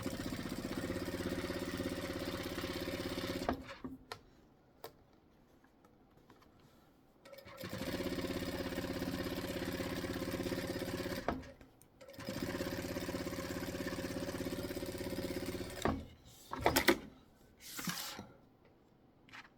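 A sewing machine top stitches across a vinyl pocket in three steady motor runs of several seconds each, separated by short pauses with small handling clicks, and no one talks during the clip.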